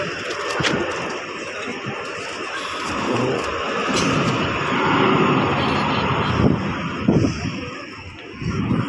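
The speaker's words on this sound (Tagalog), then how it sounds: "Nagte-take off na yung aeroplano." Airplane taking off at NAIA airport, a broad, loud engine roar that swells and holds steadily throughout, heard from a distance with background bustle and no clear talk.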